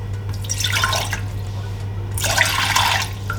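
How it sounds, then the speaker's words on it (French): Water poured from a cup into a small pot for making Turkish coffee for two, two short splashing pours about a second apart, close and steady over a constant low electrical hum. "Donc du coup il faudra remplir 2 tasses d'eau comme ça."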